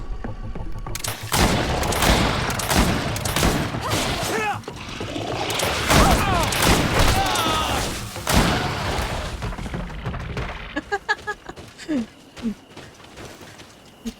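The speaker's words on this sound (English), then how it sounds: "I shoot it several times in the face" Gunfire in the fantasy game Greedfall, with loud, dense booming shots and crashes layered under talk, easing into a few separate sharp shots near the end.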